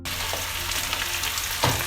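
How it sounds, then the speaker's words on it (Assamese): Garlic frying in oil for an Assamese village-style chicken curry. A loud, steady sizzle holds close throughout, with a brief stirring scrape near the end. "নহৰুটো অলপ ভাজি ল'লে এটা বৰ ধুনীয়া গোন্ধ ওলায়।"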